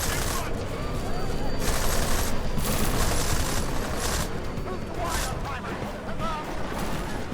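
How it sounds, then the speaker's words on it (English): Police fire sustained bursts of automatic gunfire in the video game Deus Ex: Mankind Divided, a dense, continuous crackle of rapid shots with a voice talking over it. "I'm glad to see they are actually firing on the enemies"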